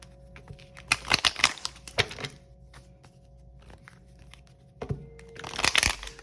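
Tarot cards are shuffled in brief bursts of crisp riffling and papery flutter, separated by quieter pauses, recorded close by with no talking.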